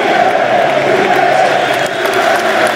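A football crowd fills the stand with a loud, continuous chant of a player's name, a dense roar of many voices with no break.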